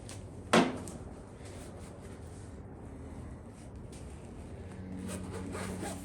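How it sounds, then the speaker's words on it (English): One quick zip as a leather rear seat cover is unzipped in a 1995 Toyota Land Cruiser FZJ80, a brief close rasp, then quiet shuffling and handling of the upholstery. "Unzip it. It just comes right off like that."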